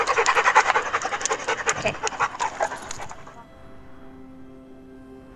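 Dogs pant rapidly and loudly up close in a rhythmic, breathy stream for about three seconds, then fade to a quiet background hum; a person says a single short word.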